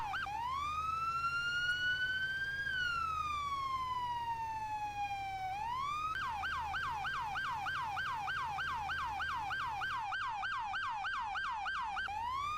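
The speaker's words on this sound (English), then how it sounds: "we'll give him the lights and sirens." Emergency vehicle sirens in a firefighting simulator video game wail loud and steady, with a long rising and falling tone that switches to a fast yelp and runs continuously with no talking.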